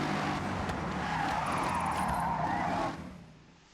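Tires squeal loudly and continuously as a car drifts in Forza Horizon, under a rumbling engine, with the screech sustained for nearly three seconds before abruptly fading away.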